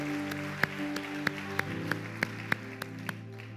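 A church congregation claps during a sermon, sharp evenly spaced claps ringing out in a steady beat over a sustained low musical hum.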